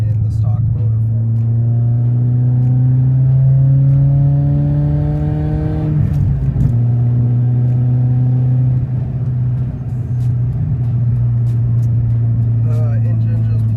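A stock BMW E30 engine revs up with a rising pitch, shifts and climbs again, loud and close, with a constant drone throughout.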